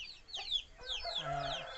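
Chickens on a poultry farm cluck and squawk close by in quick overlapping calls, with a few sharp higher cries over a quiet background.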